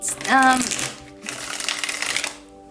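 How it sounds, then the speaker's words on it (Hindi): A tarot deck is shuffled briefly and up close, giving a crisp riffling flutter of cards, while someone talks at the same time. "मैं थोड़ी सी और कार्ड्स लेने चाहूँगी, लेकिन डिफरेंट डेक से।"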